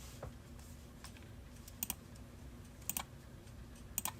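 Quiet, sparse clicks of a computer keyboard pressed as a speedcubing timer during 2x2 solves, a few isolated taps and double taps over soft room noise, with no talk.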